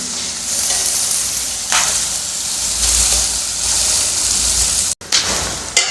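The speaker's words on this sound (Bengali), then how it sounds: "লাল লাল করে ভেজে নেব" Sliced onions fry in a pan until reddened for a chicken bhuna, giving a loud, steady sizzle close up, with a brief stirring clatter near the end.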